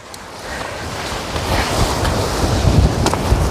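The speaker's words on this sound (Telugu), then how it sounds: "గాలి నెట్టేస్తుంది" Strong wind roars across a hiking trail with rain drizzling, a dense, broadband gusting rush that swells and builds steadily, buffeting the microphone throughout with no voices.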